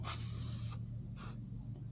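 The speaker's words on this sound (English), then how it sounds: "we'll spray some lubricant on it" Lubricant sprayed from an aerosol can onto a bolt during a John Deere 535 cutter bar rebuild: two short hissing bursts, the first longer, close by over a low steady hum.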